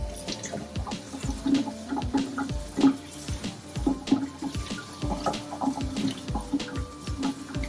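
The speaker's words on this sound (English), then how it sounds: "all I'm doing is I'm just rinsing everything out" An aquarium filter is rinsed under running water, with splashing and gurgling in irregular bursts and faint drips, close by and moderately quiet.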